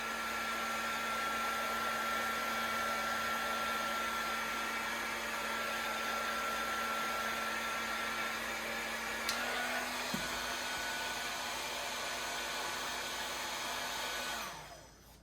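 A heat gun blows steadily for about fourteen seconds as it warms upholstery fabric over a round stool seat during reupholstering, a constant whooshing whine that cuts off abruptly at the end.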